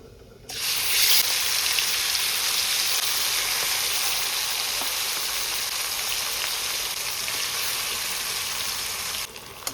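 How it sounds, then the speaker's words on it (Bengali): A broad, even hiss of marinated hilsa fish frying in hot oil starts abruptly and holds steady for several seconds before stopping, close and constant. "এরপর আমরা ম্যারিনেট করে রাখা ইলিশ মাছগুলো দিয়ে দেবো তেলের মধ্যে"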